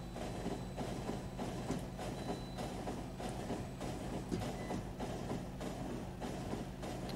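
A steady train rumble with rhythmic clattering and rattling from the video game Factorio, continuous and fairly loud, with no talking.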